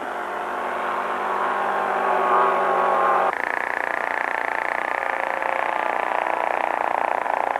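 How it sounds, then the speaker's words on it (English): A steady, buzzing four-cylinder model airplane engine drones at high revs during a low pass, shifting pitch partway through as it passes, loud and continuous with no talk. "That's what a 4-cylinder sounds like."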